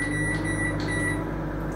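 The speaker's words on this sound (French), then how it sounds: "je mets les châtaignes 4 minutes au micro-ondes, tout simplement" A microwave oven heats chestnuts in water, giving a steady loud close hum with a high whine on top and a couple of faint clicks, and no talk.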